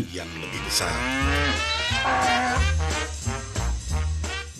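A cow bought for a farm moos loudly and close by, a long drawn-out low call that rises and falls, followed by a few shorter grunting lows.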